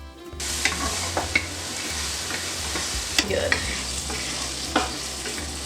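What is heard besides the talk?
pancetta sizzling in a sauté pan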